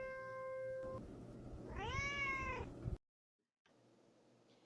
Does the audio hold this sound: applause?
no